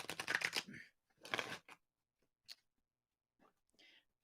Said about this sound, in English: I'm shuffling these motherfucking cards